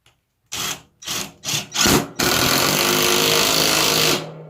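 An AEG 18V cordless 1/2-inch impact wrench drives a bolt, starting with four short rattling bursts and then a steady hammering run of about two seconds that stops abruptly, close and loud with no talking.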